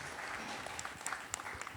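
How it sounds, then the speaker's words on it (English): Applause from a conference audience at AdFest 2025, a steady dense wash of many hands clapping throughout, fairly distant and moderately quiet, with no talking over it. "So definitely want to give a huge round of applause to everybody."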